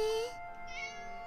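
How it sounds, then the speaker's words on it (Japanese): A cat meows once in the visual novel game Summer Pockets, a clear, close mew with a rising then falling pitch, followed by soft lingering game background sound. "にゃーとしか聞こえないけど、ゆっくりと猫が立ち上がる"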